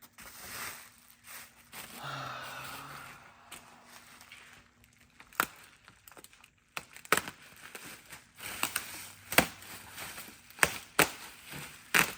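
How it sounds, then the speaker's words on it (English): Cutting open bubble wrap packaging with a knife, heard as soft crinkling and scattered sharp cracks and snaps, irregular and close, with quiet gaps between. "I'm just gonna cut the bubble wrap"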